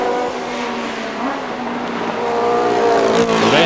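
Formula One cars race at the 1970 British Grand Prix, engines howling loudly as they pass close by, pitch sweeping and climbing toward the end, with no voices over the roar.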